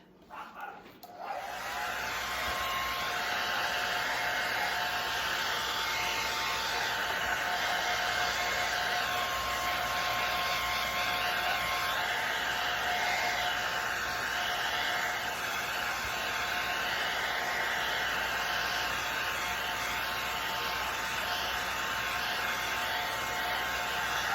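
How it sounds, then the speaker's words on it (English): A blow dryer runs steadily and loudly for about 23 seconds after a brief start, drying a light coat of white paint on a reversible wooden sign, with a constant whirring hum and no talking. "use the blow dryer once again"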